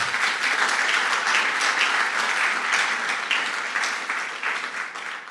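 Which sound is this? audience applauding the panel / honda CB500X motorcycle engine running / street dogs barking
audience applauding the panel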